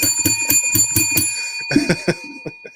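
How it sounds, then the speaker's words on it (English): A small hand bell rings in a quick run of bright, repeated strikes on a sports talk show, pauses briefly, then rings again in a shorter burst before fading out. "Let's ring the bell for Russell still swimming at that"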